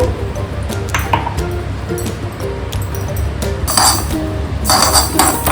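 Mustard seeds go into a hot kadai for mango pickle, sending a scatter of sharp ticks and clinks against the metal with a spoon tapping the pan. A soft sizzle builds underneath, close by, with no talking.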